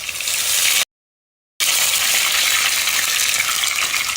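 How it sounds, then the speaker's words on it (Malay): Water tipped into a hot frying pan over crisped food, giving a loud, steady broadband sizzle and hiss that runs on after a brief gap, with no voices. "Terus letak air."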